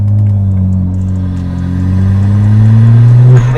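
A BMW 335i with the N54 twin-turbo engine and a DIY sound tube revs loudly and close. A rising turbo spool whistles over the engine's deep drone.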